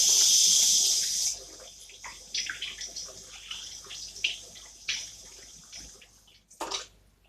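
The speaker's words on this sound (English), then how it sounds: "now let me wash my hands." A kitchen tap gushes loudly for about a second while hands are washed, then gives way to softer splashes, drips and rubbing water sounds close by, with no talking.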